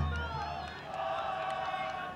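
Fans at a USL soccer match between Bethlehem Steel FC and Pittsburgh Riverhounds applaud and cheer in the stadium, a broad crowd roar that swells and holds at moderate distance, with a commentator's voice faintly under it.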